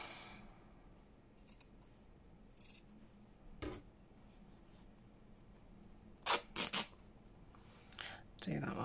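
Scissors snip through fabric while a paperclip craft is made, with a few scattered cuts early on and then a quick cluster of three or four sharp, close snips near the end over quiet room background.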